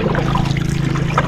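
A strong river current rushes and trickles steadily, close and continuous, with a low churning wash underneath and no voices.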